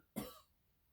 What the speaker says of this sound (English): Oh, I'm going to cough.